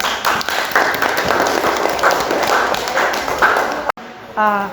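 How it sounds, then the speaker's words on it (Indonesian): Classroom students clap in a sustained patter of many hands after a biology lesson. The sound is loud and close, then stops abruptly, and a voice speaks briefly afterward. "Tepuk tangan untuk kita semuanya"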